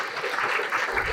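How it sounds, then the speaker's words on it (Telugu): Audience applause at a motivational talk, a brief steady patter of many hands clapping at moderate distance without a break. "వారికి ఒకసారి గట్టి క్లాప్స్ కొడుతూ"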